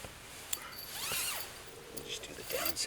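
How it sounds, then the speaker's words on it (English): The zipper of a hammock bug net is pulled closed in a few quick, close rasping strokes, mixed with light fabric rustle and brief talking. "Just do the down zipper."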